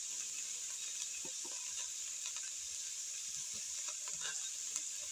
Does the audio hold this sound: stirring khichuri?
yes